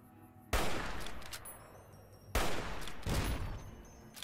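Heavy bursts of gunfire from a Fallout: New Vegas battle, two loud volleys erupting abruptly and sustained with rapid rattling shots, separated by a brief lull.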